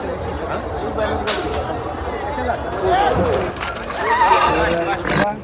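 Horses at a stud farm in Parbhani, with a loud whinny and neighing calls over a busy background of hooves and people talking nearby.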